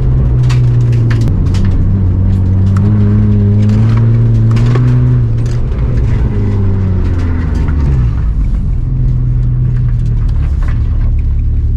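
A drifting car's engine roars hard and loud, revs rising and falling in long sweeps with tyre rumble and scrubbing underneath, close and continuous throughout.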